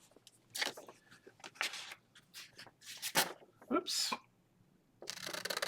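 Scissors trim excess paper from an extended journal page, giving several short, crisp snips spaced irregularly, with a brief spoken exclamation among the cuts.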